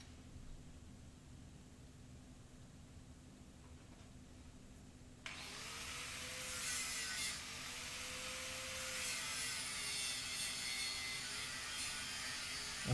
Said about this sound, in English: I'm just going to run the grinder over them, the flat disc, and just smooth them off a bit.